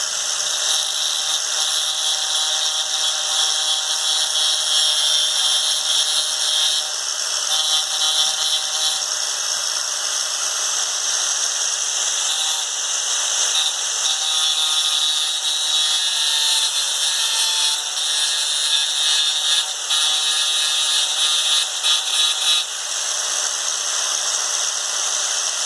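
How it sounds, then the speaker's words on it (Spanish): A power sander grinding on cast iron during a welding repair, a continuous loud, harsh whine and rasp that holds steady for the whole stretch with small fluctuations and no talking. "entonces lo que busco es una lijadora."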